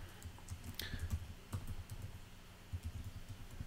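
Computer keyboard keys clatter in quick irregular bursts as code is typed, close and fairly quiet, with brief pauses between clusters of clicks.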